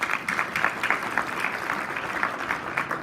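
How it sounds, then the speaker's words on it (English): An audience at the 2019 Spartan Club Hall of Fame ceremony claps steadily, a dense patter of many hands that holds at an even level throughout. "So let's give them a round of applause."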